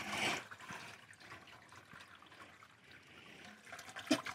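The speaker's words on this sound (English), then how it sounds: "so now we're going to take it, drain it here before we dump it on the table" Water from a crawfish boil pot drains and splashes in a brief, fairly quiet rush that fades to trickles and drips, with a sharper splash near the end.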